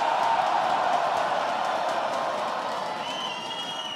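A crowd at a rap battle cheers and claps loudly and steadily, a dense wash of applause and shouts that fades slightly toward the end, with a whistle near the close.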